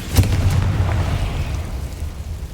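The Confringo fire spell from Hogwarts Legacy bursts with a sudden low boom near the start, then a rumbling roar that slowly fades.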